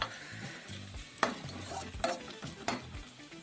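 Ginger and garlic sauté in a hot pan for beef stew, giving a steady close sizzle broken by three sharp scraping stirs of a utensil against the pan.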